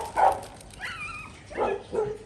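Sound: dog barking

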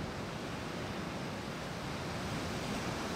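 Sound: ocean waves on a beach

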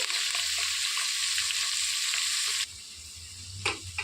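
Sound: curry leaves added to hot oil and stirred

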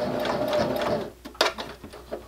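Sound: sewing machine stitching a seam on fabric keychain

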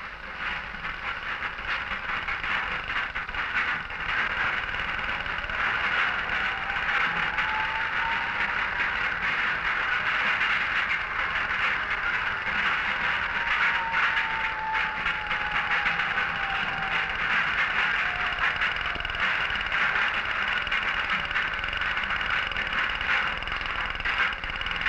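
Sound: coal cutting machine with whirling picks in a mine

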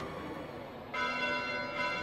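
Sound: church bells ringing at night in Fire Emblem Three Houses, a video game

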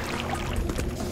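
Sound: log falling into water in Vampire the Masquerade Bloodlines video game

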